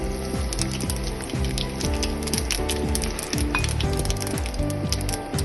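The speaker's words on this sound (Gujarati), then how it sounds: "હવે આપણે આમાં રાઈ નાખીશું. રાઈ તતલી જાય એટલે આપણે એમાં" Mustard seeds pop and sizzle in hot oil for a Gujarati tempering with asafoetida, a dense continuous crackle with rapid spattering, close and even in level, with a tonal background hum and no talk.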